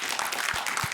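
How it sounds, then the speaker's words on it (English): A studio audience at a televised panel discussion applauds in a dense, continuous wash of clapping for the whole moment, moderately loud with no single voice standing out. "Would you please give them all a round of applause?"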